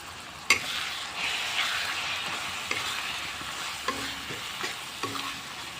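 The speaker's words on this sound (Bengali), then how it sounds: "এখন হচ্ছে এগুলো আপনার মিক্সড করবেন একসাথে" A spoon scrapes and stirs chicken curry spices in a pan over low sizzling, with several distinct knocks and scrapes against the pan in an even, steady mixing rhythm; no one speaks.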